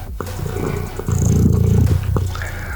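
A house cat lets out a drawn-out, growly vocalization at close range, loud and rough, lasting a couple of seconds with a shorter trailing sound after.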